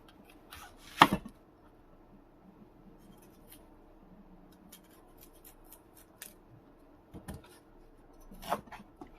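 A knife slices an onion thinly on a board, giving a few sharp isolated cuts spaced seconds apart, each a crisp quick snap in an otherwise quiet kitchen.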